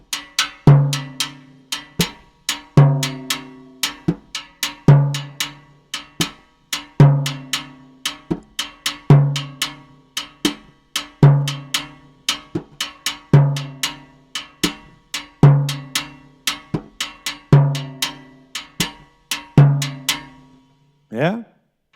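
Sticks play a cascara pattern with a 2-3 clave on timbales, giving crisp repeated clicks and shell hits in a steady, looping rhythm with periodic ringing drum strokes, close and unaccompanied.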